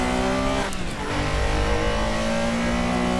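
Porsche RSR with a 3.0-litre flat-six of about 330 horsepower revving hard in the Assetto Corsa racing game, a loud, steady engine drone with rising harmonic tones and a brief dip partway through.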